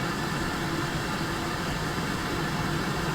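A steam locomotive's ejector hisses in a 47XX train simulator game, a steady loud broadband rush with no variation and no speech.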